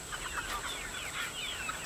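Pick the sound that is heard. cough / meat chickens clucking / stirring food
meat chickens clucking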